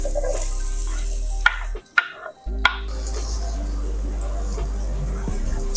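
Onions sauté in a hot pan as dak-galbi cooking begins, a steady close sizzle with scraping stir strokes and a brief lull, while someone talks over it.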